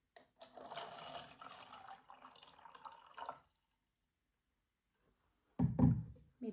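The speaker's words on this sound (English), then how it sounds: "I've never been good at measuring how much water to put in here" Water pours into a container while camping in the Sawtooths near Stanley, Idaho, a close, bubbling trickle lasting a few seconds. Silence follows, then a brief louder splash or thunk near the end.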